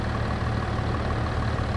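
A tractor engine idles in Farming Simulator 22, a steady low mechanical rumble holding constant throughout with no variation or other sounds.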